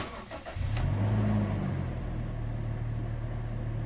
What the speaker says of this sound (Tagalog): switch off ko itong makina, tapos start ko ulit itong makina. Dapat 1 click na yan.